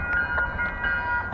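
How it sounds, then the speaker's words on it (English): An MBTA Purple Line commuter train pulls into Norfolk station with a steady, loud rumble. Sustained horn-like tones run over the rumble, close to the listener and without talk. "here comes the train"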